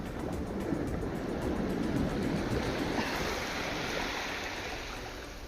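Sea waves wash onto a beach at Alibag in early morning with low tide, a steady broadband surf rush with gentle swells and light wind, no voices.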